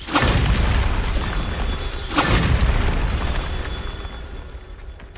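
The Bombarda blasting spell goes off in Hogwarts Legacy with a loud, deep boom and crumbling debris, followed by a second blast about two seconds later and a fading rumble.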